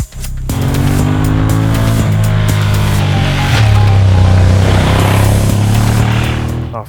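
Ducati Monster 1200 S motorcycle riding on a 2017 bike, engine droning loudly and steadily throughout with a shift in pitch partway through, wind and road noise around it.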